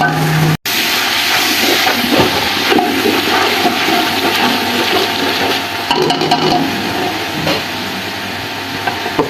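Spices with salt and turmeric sautéing in a pot, a loud, steady sizzle with intermittent stirring scrapes, no voices.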